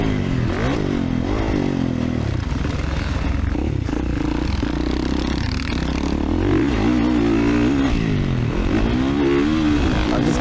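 A 2024 Kawasaki dirt bike rips around a motocross track during practice laps, its engine revving up and down continuously with rising and falling pitch, close and loud, with clattering and scraping from the ride.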